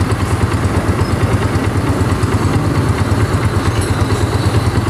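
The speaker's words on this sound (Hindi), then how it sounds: "तो यहां पे देखें सिलेंसर का साउंड भी काफ़ी बेहतरीन है, और इंजन की फालतू आवाज़ें तकरीबन ख़त्म हो चुकी हैं बाइक से।" A Honda CG125 motorcycle idles close by after its engine noise problem was fixed, a steady low throbbing rumble through the silencer that stays even and continuous throughout with no talk.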